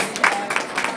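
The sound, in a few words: audience applause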